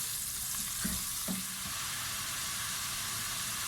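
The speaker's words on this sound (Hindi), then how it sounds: "चिकन को हम अच्छे से फ्राई करेंगे ताकि इसकी रंगत चेंज हो जाए, वाइट हो जाए" Chicken pieces fry in a hot pan with a steady, close sizzle throughout, broken by a couple of brief stirring scrapes.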